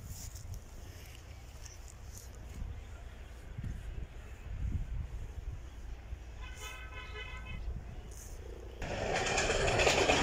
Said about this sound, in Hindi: ट्रेन भी आ रही है।